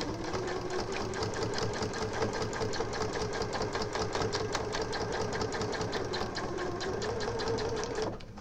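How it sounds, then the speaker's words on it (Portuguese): A sewing machine runs a continuous fast stitch through plastic while making a small pouch, a steady rapid mechanical chatter close by that stops abruptly at the end. "Vou passar uma, só uma costurinha de segurança para prender o plástico aqui embaixo."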